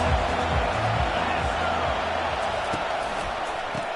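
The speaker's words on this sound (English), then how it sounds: "This crowd trying to make life miserable for this offense." Steady roar of a large American football stadium crowd, loud and continuous, with no voices standing out from the sustained wash of noise.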